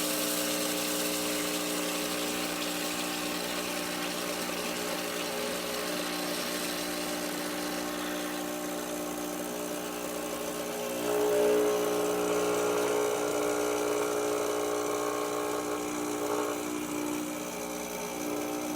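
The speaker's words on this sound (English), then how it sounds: "we'll go ahead and turn the steam mode off and run hot water, doing the cooling flush" A Rancilio Silvia espresso machine with a newly replaced heating element runs its pump to push hot water through for a cooling flush, a steady close mechanical hum that holds for about twenty seconds and rises slightly partway through, with no talking.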